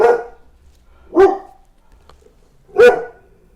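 Dogs bark indoors, three loud, sharp single barks spaced over a few seconds, close to the microphone with quiet between them.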